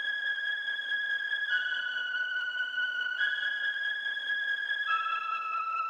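Sustained choir chords processed with ShaperBox and Pan Man, smooth held tones changing pitch every second or two, steady and moderately quiet with no talking.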